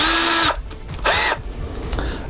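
Power drill spins a wooden longbow arrow shaft through a profiler, loud and close in two bursts of high whine separated by a brief lower pause, then a quieter rougher grinding.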